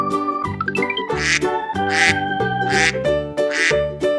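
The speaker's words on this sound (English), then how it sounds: "Duck." A duck quacks in a string of roughly four or five short, nasal calls spaced evenly, loud and close, over a bright tune in a children's animal-sounds learning song.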